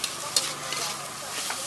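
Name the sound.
seblak mie goreng noodles stir-frying in a pan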